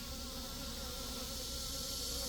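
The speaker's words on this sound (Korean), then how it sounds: "얘네들이 다 도봉하는 양봉벌이에요. 먹이를 뺏어가려고 오는 애들." Robber honeybees swarm around a native beehive's entrance, raising a steady, faint, dense buzzing hum with no voices.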